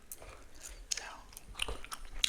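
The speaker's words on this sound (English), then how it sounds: "obviously I'm chewing gum" Gum chewing in a soft-spoken ASMR nail session, close, moist, irregular smacking and clicking bites repeating over a couple of seconds at low volume.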